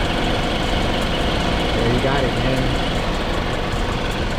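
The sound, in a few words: BMW F30 engine idling with new drive belt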